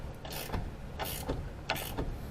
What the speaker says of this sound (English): we're going to jack the plates up into place and then try to bolt it in with the longer bolts